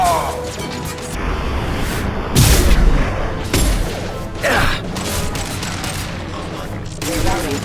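Gunfire erupts aboard a shipwreck in Mass Effect 2, with sharp bursts and loud cracking impacts at irregular intervals over mechanical clatter and creaks.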